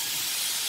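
Shrimp sizzling in a hot pan for coconut milk pasta, a brief, continuous loud hiss close by with no pauses.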